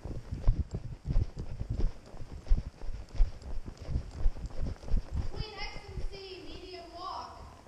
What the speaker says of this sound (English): Working trot rising.